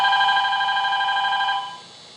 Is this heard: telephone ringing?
yes